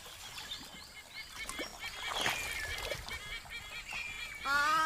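Black cormorants feeding on eel-tailed catfish at a billabong waterhole in Kakadu, Australia, with honking, goose-like bird calls at moderate distance over a murmuring outdoor background, a clearer burst of calls at the end.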